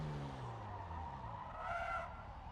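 A race car in Forza laps the Hockenheim National circuit, its engine droning and rising as it climbs from third into fourth gear, with a tyre squeal midway.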